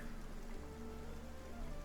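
Steady, even rain patters down across a RuneScape: Dragonwilds game scene, a continuous close hiss of drops on surfaces with no voices over it.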